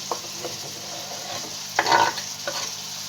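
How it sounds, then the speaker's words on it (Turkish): A large peeled tomato goes into meat sautéing in a pot, heard as a steady sizzle broken by a few utensil scrapes and stirring knocks against the pot. "Ve şimdi de içerisine kabuğunu soymuş olduğum bir adet büyük boy domatesimi ekliyorum."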